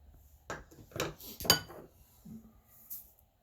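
Dry ingredients for homemade ranch dressing, including parsley, dill and onion powder, scooped and dumped together: a few close clinks and clatters of a spoon against jars and a bowl, one sharper knock, then a soft shuffle.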